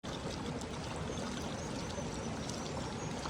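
Hot spring water at Jhinu flows and pours in a steady, unbroken broadband rush that stays loud and even from start to finish, with no voices.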